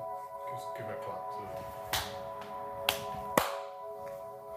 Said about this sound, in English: Yeah, if you just give it a clap.